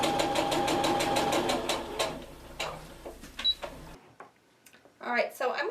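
Domestic sewing machine stitching a quilt block seam, a steady rapid close-up stitching run that stops after about four seconds, followed by a few soft handling clicks, with a voice talking throughout.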